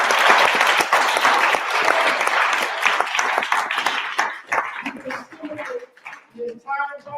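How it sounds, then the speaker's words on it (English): An audience at a birthday tribute gathering bursts into loud, dense applause that fades over several seconds, followed by scattered claps and voices talking as it dies down. "Give yourself a round of applause"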